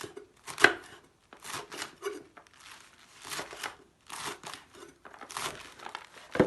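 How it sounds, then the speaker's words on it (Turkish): Finely chopping cabbage with a knife on a small cutting board, a quick series of sharp, close taps in short bursts separated by brief pauses. "Şöyle ince ince kıyayım da."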